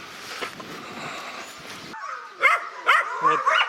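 Dogs locked in a mating tie give high, thin whimpers and yips that come in several short bursts close by, after a stretch of low background noise.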